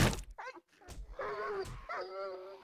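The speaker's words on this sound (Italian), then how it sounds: "Non so se le avete sentite, amici, ma sento dei fottuti cani" Dogs in the survival video game 7 Days To Die let out several short barks and yips in quick succession, fairly close, with whimpering tones between the barks.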